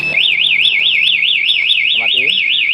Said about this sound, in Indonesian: Mesin mati dan alarm bunyi.